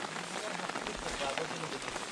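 Rain falling steadily on a surface in a village near farmland, a soft continuous patter of drops throughout the short stretch, fairly faint and even.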